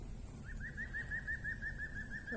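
An unidentified bird gives a repeated rhythmic call, a steady series of faint notes, heard outdoors near a field where a long drain is being dug, over a low background rumble.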